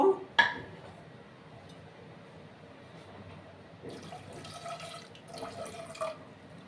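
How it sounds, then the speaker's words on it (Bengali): Water splashes into a pressure cooker holding jackfruit seeds, starting with a sharp initial pour followed by quieter trickling. Bursts of splashing and sloshing return later, close by, with no talking. "এবার আমি জল দেব"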